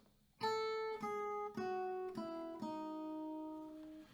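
Acoustic guitar picking the final part of an intro, five plucked notes in a slow even rhythm that ring over one another and fade, close and alone.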